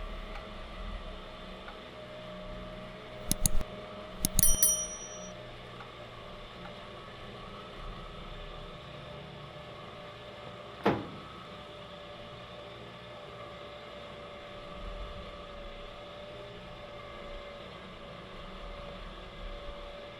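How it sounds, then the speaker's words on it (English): A 4x4 winch hauls its cable through a roller fairlead at a 90-degree fleet angle while facing down a 35-degree hill. It makes a steady, even mechanical drone, broken by a few brief clicks and knocks near the start and middle. "So here's our first winch with a roller Fairlead, and all our winches are going to be about 30 seconds in duration."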